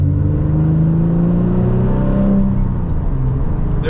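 A straight-piped Porsche 911 Turbo exhaust drones loud and close from inside the car, a continuous deep rumble with engine tones shifting in pitch.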